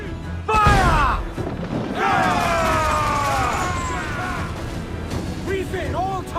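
Ship cannons firing in Assassin's Creed IV Black Flag, a loud booming blast followed by long crashing, rumbling debris and a second burst, with someone shouting orders over it.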